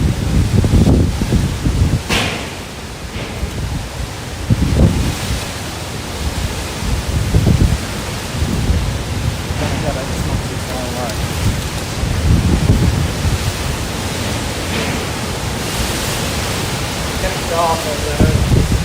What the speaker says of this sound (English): we've got some stronger winds moving in now